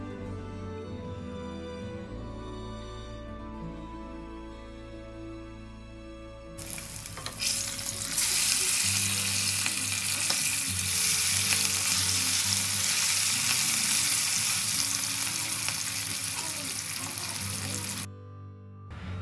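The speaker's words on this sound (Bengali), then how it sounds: "এবার আমি কড়াইতে তেল গরম করে মাছগুলো ভেজে নেব এক এক করে।" Katla fish sizzles loudly in hot oil in a wok, a dense continuous frying hiss that bursts in after a quieter start and holds steady before cutting off near the end, with no talking.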